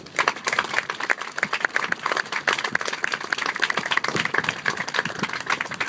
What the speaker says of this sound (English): please join me in giving a round of applause to these great soldiers